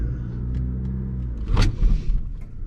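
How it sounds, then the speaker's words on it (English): A manual car idles with a low rumble, then lurches with a sudden thump and shudder as a first-time learner driver lets the clutch out too fast in first gear. No talking. "that just means you release the clutch too fast when it jerks like that"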